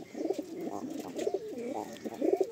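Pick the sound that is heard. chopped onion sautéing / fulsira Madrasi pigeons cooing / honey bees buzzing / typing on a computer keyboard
fulsira Madrasi pigeons cooing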